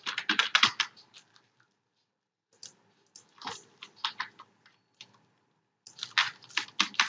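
Text being typed on a computer keyboard in graphic design software, quick bursts of close key clicks separated by silent pauses, three separate clusters of tapping.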